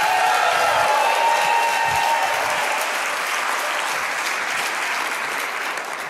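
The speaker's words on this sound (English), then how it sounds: "give him a great big hand clap" Sustained applause and hand clapping from a church congregation welcoming a pastor to speak: a loud, dense wash of clapping that holds steady and slowly fades slightly toward the end, with faint crowd murmur.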